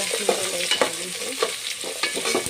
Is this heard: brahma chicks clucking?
no